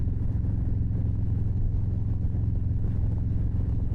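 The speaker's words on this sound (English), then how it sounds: "the exhaust tone at speed, just sort of cruising along," A motorcycle with a stainless exhaust cruises at speed, giving a steady, mellow low drone under a constant rush of wind, with no talking.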